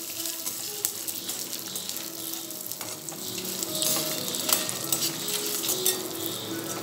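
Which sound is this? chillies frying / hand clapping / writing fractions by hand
chillies frying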